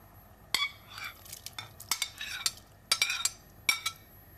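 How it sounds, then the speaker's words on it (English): Bean thread noodles and mushroom going into a pot of hot and sour soup, with a series of sharp clinks, taps and stirring scrapes of a utensil against the pot, close and without talk. "Now I'm going to add the bean thread noodles and the mushroom, which will give the soup a nice, interesting texture."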